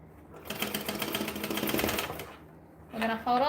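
Close sewing machine stitching a bag in a quick rattling burst that stops after about two seconds, then a voice speaks briefly.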